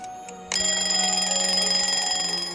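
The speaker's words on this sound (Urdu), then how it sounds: "صبح 5 بجے الارم بجنا بند ہو گیا۔" An alarm clock rings at 5 am, a sustained bright electronic tone that starts abruptly after a faint lead-in and keeps pulsing steadily, loud and close, with no talking.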